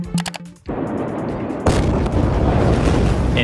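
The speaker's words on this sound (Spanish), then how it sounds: "una explosión ocurrida en el puerto de Beirut" A massive explosion at the port of Beirut, Lebanon, opens with crackling bursts and then a heavy roaring blast, followed by a second louder surge of sustained rumbling noise with no talk.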